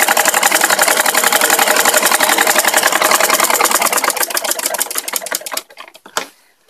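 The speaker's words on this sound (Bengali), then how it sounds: "সেইভাবে আমি আবার সেলাই করে নিব" Sewing machine stitching a churidar pajama, a loud, fast, steady rhythmic clatter for over five seconds that slows and stops, followed by a brief mechanical click; no talk.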